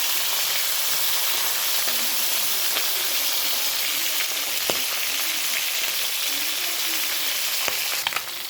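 Magur catfish frying in hot oil make a loud, steady, close sizzle with scattered faint pops and clicks, no voices.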